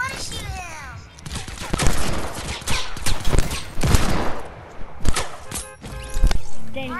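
Video game gunfire comes in rapid bursts of sharp shots, near and loud, with dings and whip-like snaps in between, while players talk and exclaim over it.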